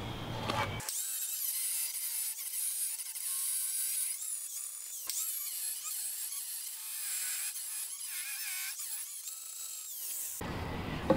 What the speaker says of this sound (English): Now let's grind off the ends.